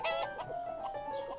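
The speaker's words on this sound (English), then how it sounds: "we'd better go and see the chickens then." Chickens clucking and calling on a farm, several birds close by with short repeated bright clucks over a steady hum, no talk.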